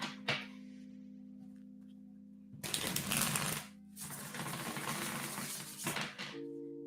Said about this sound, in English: I'm just going to keep shuffling until it tries to stop me